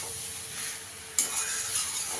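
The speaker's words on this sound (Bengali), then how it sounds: "এবার চিংড়ি মাছটা দিয়ে দেবো আমি, চিংড়ি মাছটা দিয়েও ভালো করে কষিয়ে নেব।" Prawns sautéed in a little oil and spice for a prawn and papaya curry: a steady sizzle with stirring that flares into a sharper, louder hiss about halfway through.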